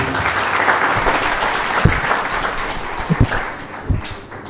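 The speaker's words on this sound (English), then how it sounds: "A big round of applause for them, please" An audience at a recovery-themed gathering breaks into sustained applause, steady dense clapping with a few sharp louder claps standing out near the end as it begins to thin.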